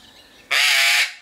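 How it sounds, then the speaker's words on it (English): A single loud, harsh squawk from a bird in an enclosure at Addo in the Eastern Cape, close and about half a second long, rising abruptly out of near silence. "I have no idea what this bird is, but he is gorgeous."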